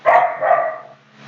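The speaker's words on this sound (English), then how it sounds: "So aside from the dogs barking," One dog gives a single short bark, fairly close and clear, fading quickly into quiet room tone.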